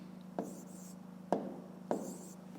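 Pen strokes on paper while divisors are jotted down in a fifth-grade math exercise: three short, quiet scratching bursts spaced about a second apart, with faint background hum.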